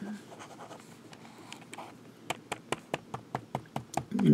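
Fountain pen nib scratching across paper after filling, a string of crisp, evenly spaced strokes and taps that turn louder and more regular toward the end, close and alone with no talk.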